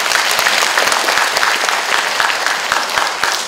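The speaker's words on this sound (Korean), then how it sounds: "이 부분에서 박수 한번 좀 쳐드립시다." An audience at a lecture breaks into applause, a full steady round of clapping from many hands that stays loud throughout.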